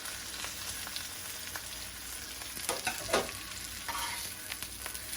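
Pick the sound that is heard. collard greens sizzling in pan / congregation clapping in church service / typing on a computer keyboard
collard greens sizzling in pan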